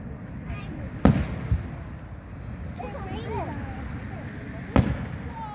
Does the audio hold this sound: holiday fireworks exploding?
yes